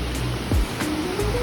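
River water flowing beneath a suspension bridge in a valley in Sukabumi, a loud continuous rushing wash with no voices.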